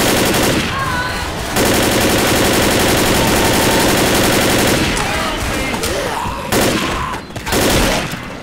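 Rapid automatic gunfire from the zombie shooter game Left 4 Dead, in long sustained bursts that run almost the whole time, with brief drops and sharp blasts near the end.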